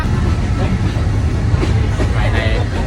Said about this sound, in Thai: อันนี้บรรยากาศนะครับภายในรถไฟ